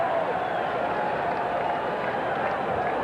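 Crowd at Fenway Park during Game 3 of the 1986 World Series between the Mets and Red Sox, a steady wash of cheering and applause, broad and distant, with no clear individual claps.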